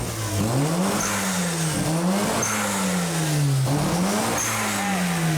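Mazda RX-7 rotary engine revving close by in repeated rising and falling surges, each throttle blip climbing and dropping in pitch several times over a few seconds.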